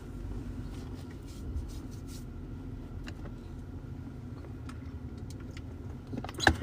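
A car drives along with a steady low road rumble, punctuated by light taps and clicks inside the cabin, fairly quiet and without voices.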